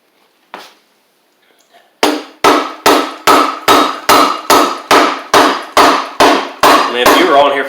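A Briggs & Stratton V-twin engine on a Husqvarna YTH24V48 riding mower is struck hard to free its stuck sump, starting with one lone knock, then a steady run of about a dozen loud, evenly spaced metallic hammer blows up close.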